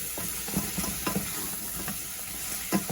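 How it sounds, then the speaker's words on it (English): Blue crab sizzles and crackles steadily frying in a hot pan, with occasional soft knocks of stirring; close and continuous, no talking. "But for now, I'll let it go on frying off."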